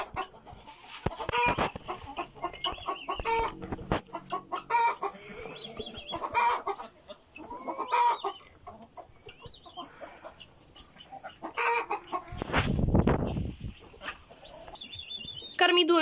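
Hens cluck repeatedly near a feeder in a henhouse, with short, close, overlapping calls arriving in quick bursts and a louder scratchy rustle partway through.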